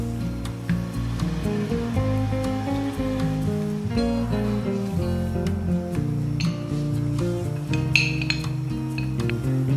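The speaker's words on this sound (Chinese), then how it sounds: "用筷子把紫菜和鸡蛋搅拌均匀" Chopsticks stir seaweed and beaten egg in a pot of soup, giving light, scattered clinks against the pot over a steady tonal background hum.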